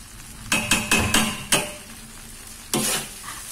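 Spatula scraping and stirring yellow-spiced fried rice vermicelli in a wok, with a quick run of sharp metallic scrapes and clanks, a pause, then another loud scrape over a faint sizzle.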